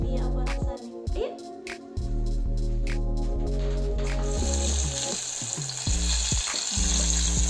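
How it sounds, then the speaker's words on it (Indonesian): Homemade salted fish fries in a pan, with a steady close-up sizzle, sporadic clinks of utensils and occasional spattering bursts that grow denser toward the end. "mari kita goreng terus diicipi apa rasanya"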